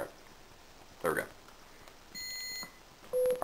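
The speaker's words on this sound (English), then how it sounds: "now you can hear the actual beeps being sent by the basic stamp" Electronic beeps from a Basic Stamp microcontroller circuit: a sustained tone, then a sharper beep, separated by a brief clatter against a quiet background hiss.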